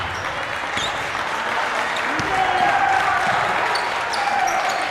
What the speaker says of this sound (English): Eau Claire Memorial's bench is getting into it. They're clapping, making some noise.